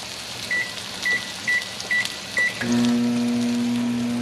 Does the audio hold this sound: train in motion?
no